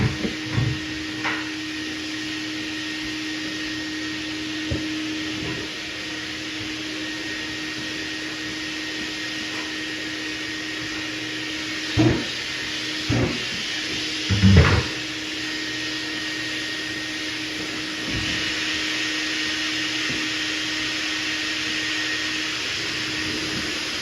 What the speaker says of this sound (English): You can see how it sanded down really quickly